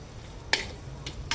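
Ingredients sautéing in a pan for balensyana, with a few short spatula scrapes and bursts of sizzle over a low steady background, close and fairly quiet.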